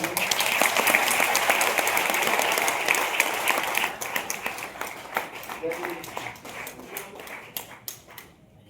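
Loud, dense applause from an audience welcoming a woman guest at an RCM business gathering, sustained for several seconds and then thinning to scattered individual claps before fading.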